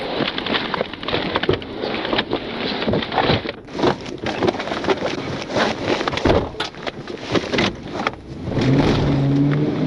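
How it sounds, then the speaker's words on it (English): A car speeds off during a police pursuit, its engine roaring through loud, uneven bursts of rushing wind and rattling for about ten seconds, with no voices. "the driver glanced at the passenger, grabbed the gear shift, and sped off, initiating a pursuit."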